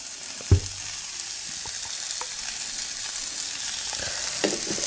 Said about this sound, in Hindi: और मसालों को हम अच्छे से भूनेंगे ताकि मसाले का कच्चापन निकल जाए।